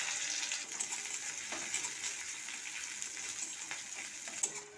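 Dry red chillies, bay leaf, five-spice seeds and chopped onion sizzle in hot oil, a steady crackling hiss with light scattered pops and faint stirring, fairly quiet and without voices.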